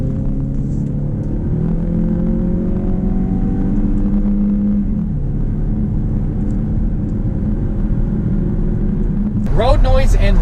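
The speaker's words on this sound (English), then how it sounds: "Road noise and ride quality on the interstate." Inside a 2019 Hyundai Tucson cruising on the interstate, a steady low tire and engine rumble fills the cabin with a faint whine, and a voice starts speaking at the very end.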